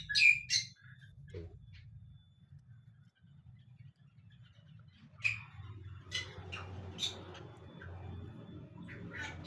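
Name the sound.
birds chirping in aviary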